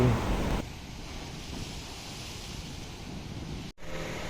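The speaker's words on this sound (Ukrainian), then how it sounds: "Ну і тут бурхливе море, прям дуже бурхливе." Rough, very stormy sea surf on a French coast, a steady loud broadband roar of waves and wind that runs unbroken for several seconds, briefly cutting out near the end, with no talking.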